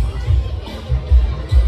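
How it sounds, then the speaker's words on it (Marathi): A packed seafood restaurant in Panvel, full of families celebrating, fills with steady, close crowd babble. The overlapping voices and low rumbling hubbub continue throughout, with no single speaker standing out. "गर्दी बघू शकता किती आहे ती"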